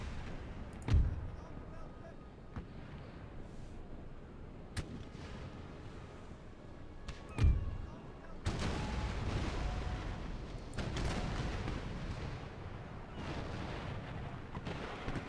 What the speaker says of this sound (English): Let's try a little chain shot up close here.